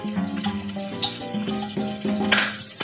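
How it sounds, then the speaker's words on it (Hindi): Beaten garlic goes into hot oil as a tempering for colocasia leaf curry, crackling in light bursts among clinks of a spoon against the pan, close by and without voices. "अभी तेल गरम हो गया है, इसमें लहसुन डालेंगे"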